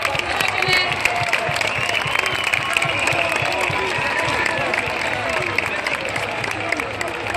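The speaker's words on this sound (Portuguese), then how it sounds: "Uma salva de palmas para as barraquinhas de curso que tiveram na 20ª Académica." A large crowd at a university academic-week event in Faro applauds the course stalls with continuous dense clapping and cheering mixed with crowd chatter.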